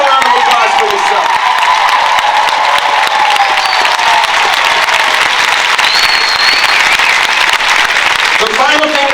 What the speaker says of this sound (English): So give a round of applause for yourself.